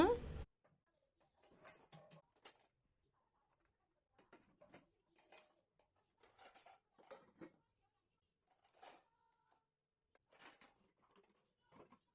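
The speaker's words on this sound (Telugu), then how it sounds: "గిన్నెలన్నీ కడిగేసి బాటిళ్ళన్నీ కడిగేసి" Dishes and bottles washed at a home kitchen sink during a morning routine: faint, sparse clinks and clatters of pots and glass arriving in short scattered bursts in a quiet room.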